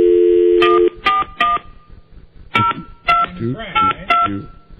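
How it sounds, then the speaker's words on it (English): A telephone keypad dials a call during a radio talk show, sending a loud series of distinct DTMF beeps, some in quick pairs, with brief gaps and faint talk between them. "let me dial Brad up"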